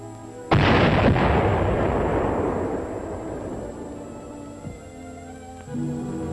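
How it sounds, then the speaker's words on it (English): Dynamite blasts shore ice into a bay on a Greenland beach: one loud, sudden detonation followed by a long, fading rumble, with a few smaller thuds trailing behind. "Dynamite was used to blast it into the bay."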